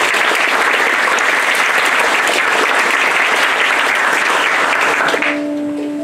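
A school poetry reading concert audience applauds loudly and steadily for about five seconds before the clapping stops abruptly, leaving a faint hum.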